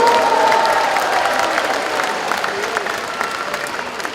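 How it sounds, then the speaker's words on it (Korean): A large crowd applauds steadily at a Liberty Korea Party convention, a dense wash of clapping that tapers slightly toward the end, with a voice faintly heard at the start. "박수 한번 보내주시기 바랍니다"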